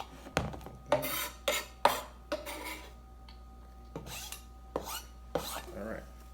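A utensil scooping finely chopped guacamole ingredients on a board, a series of close, uneven scraping and rasping strokes with small clinks, about ten bursts separated by short pauses.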